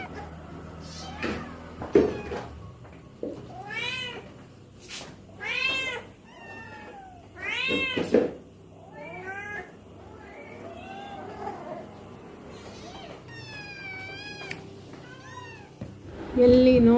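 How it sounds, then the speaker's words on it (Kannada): Many cats crowd a home kitchen, some on a fridge, chair and box, and they meow repeatedly and overlapping at close range, with some longer caterwaul-like calls among them. "ಎಲ್ಲಿ ನೋಡಿದರಲ್ಲಿ ಬೆಕ್ಕುಗಳು. ಇಡೀ ಅಡುಗೆ ಮನೆ ತುಂಬ ಎಲ್ಲ ಕಡೆ ಬೆಕ್ಕು."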